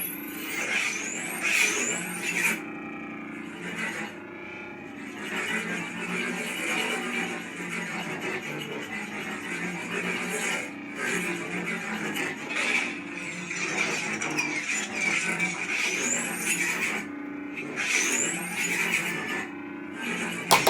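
A Blueforce Company lightsaber sound font plays a steady, car-like humming idle broken by repeated smooth swing whooshes and rising squealing sweeps, with sharp bursts near the start and end.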